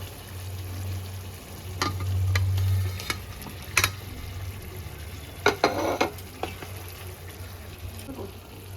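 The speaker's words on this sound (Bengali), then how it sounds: "এবার আমি ভেজে রাখা চিকেনগুলো দিয়ে দেবো" Fried chicken pieces tipped into a pan of cooked-down masala for khirodh chicken, with a steady low sizzle and a few sharp clatters and stirring scrapes in the middle, close by, no talk.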